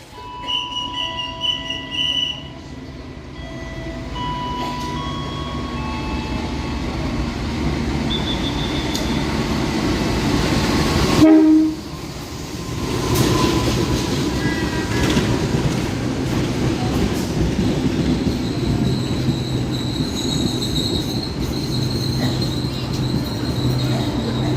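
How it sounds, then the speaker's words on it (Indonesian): The Logawa passenger train rolls into Mojokerto station with a steady heavy rumble of wheels and long metallic squeals from the rails, swelling to a loud surge midway before settling into a continuous grinding roll. "Nanti keretanya akan masuk jalur sini dan kita disiapkan di sini"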